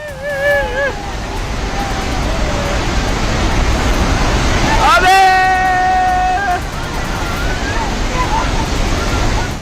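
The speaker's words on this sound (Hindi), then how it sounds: "तिब्बत से अचानक आई बाढ़ का पानी भोटेकोशी नदी की तरफ बढ़ा और फिर नेपाल के रसुआ में लहरों ने रफ्तार पकड़ ली।" Floodwater surging down the Bhote Koshi river in Rasuwa, Nepal, after a sudden glacial outburst from Tibet, a loud continuous roar of rushing water with a voice speaking over it and a brief tonal sweep midway.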